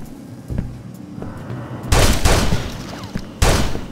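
In the video game Urban Chaos: Riot Response, close, loud bursts of automatic gunfire come in two heavy volleys after a few lighter shots, with game noise in between.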